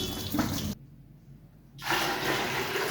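Water gushes from a kitchen tap in a loud rushing stream, stops abruptly for about a second, then pours again just as strongly.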